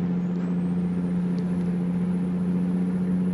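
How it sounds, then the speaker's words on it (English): In American Truck Simulator, a dump truck dumps its load with a loud, steady engine drone and a thin, high mechanical whine rising above it. "The dump truck dumping its thingy. Yeah, that just sounds bad."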